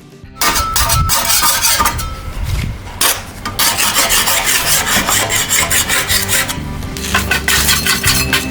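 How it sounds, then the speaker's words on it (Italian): Marble tiles are rubbed and scrubbed clean before polishing, making loud, continuous rough scraping strokes with occasional light clinks, close and alone without speech. "Prima di portare i marmi a lucidare li pulisco un poco"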